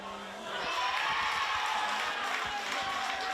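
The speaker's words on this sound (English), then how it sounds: "Tamworth, they've got a big crowd here supporting. You can hear it in the effects mic." Supporters roar and cheer as a large crowd backs Tamworth at a women's rugby league semi-final of the NSW Senior State Championships, with a broad, steady wash of crowd noise that swells after a quieter start and runs under commentary.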